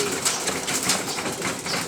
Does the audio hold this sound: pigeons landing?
yes